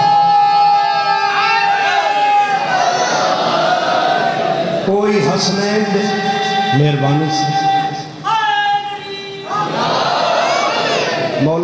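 A large mourning congregation at a Muharram majlis in Sargani, Karor, chants a religious slogan together, a loud dense roar of many voices in unison that swells and surges continuously around a preacher's lead.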